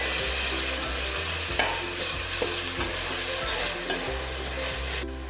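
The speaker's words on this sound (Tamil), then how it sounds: "கூடவே நம்ம கட் பண்ணி வச்சிருக்கிற வெங்காயம், தக்காளி, கொஞ்சமாக உப்பும் சேர்த்து நல்லா வதக்கி விடுங்க" Chopped onion and tomato with a little salt are sautéed for a spicy crab soup. A constant close sizzle is heard, with several distinct scrapes of a stirring spoon against the pan and no talking.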